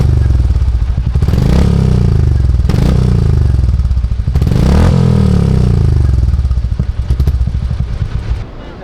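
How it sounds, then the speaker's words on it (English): A Royal Enfield Hunter 350 single-cylinder motorcycle fitted with an MW Performance aftermarket exhaust revs loudly and close, its deep thumping bark swelling in three strong bursts and falling back between them. "with this MW Performance exhaust equipped, the Hunter 350 has just enough bark."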